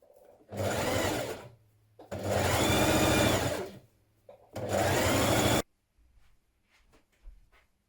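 A sewing machine hems the sleeves and hem of a dress with a single fold, stitching in three loud, steady bursts separated by short pauses and then falling quiet.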